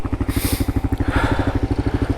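An adventure motorcycle engine of about 200 kilos chugs loud and close on a single-track trail, a fast even pulsing throb with some clatter over it.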